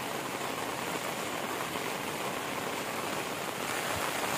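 Steady rain falls over green fields and waterlogged corners on a misty early morning in the Konkan countryside, a dense, even wash of noise with no voices.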